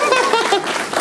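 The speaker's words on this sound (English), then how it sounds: "Please, a round of applause." Audience applause fills a lecture hall during a talk on music contracts, steady dense clapping at close range from start to finish with no voices on top.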